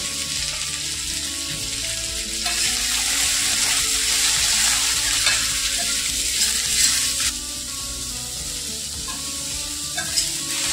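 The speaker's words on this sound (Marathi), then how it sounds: "कढईमध्ये आपण जो कांदा घेतलाय तो तळून घेणार आहे।" Chopped onion fries in a little oil in a kadai, giving a continuous close sizzle with stirring scrapes that swells briefly in the middle.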